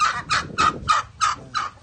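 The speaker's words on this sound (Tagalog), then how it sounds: "Daming manok. May manok, may pabo, may itik" A rapid series of six loud, honking poultry calls repeats in an even rhythm, close by, from a yard of chickens, turkeys and ducks gobbling and quacking.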